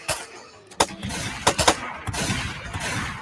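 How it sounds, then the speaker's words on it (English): Cartoon gunfire crackles in a few sharp bursts and single shots over a rumbling background, scattered irregularly and moderately loud. "Try to distract it with your gunfire."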